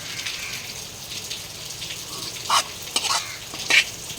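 Grated beetroot fries and is stirred in a pan for a beetroot chutney, a steady soft sizzle broken by a few brief scraping stirs near the end, no voices.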